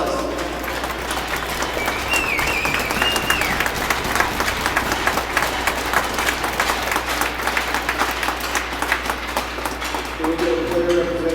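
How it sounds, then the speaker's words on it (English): Crowd applause at a Hockey Fights Cancer ice hockey game against the Moose Jaw Warriors, sustained arena clapping and cheering filling the rink with a steady low hum beneath it. "Round of applause."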